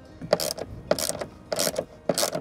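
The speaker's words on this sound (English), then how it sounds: "my 10 millimeter socket to tighten the bolt right here" A 10 mm socket wrench tightens a bolt on a Ford F-150 EcoBoost while a second wrench holds the nut, giving four short bursts of ratcheting clicks at a close, moderate level with no talking.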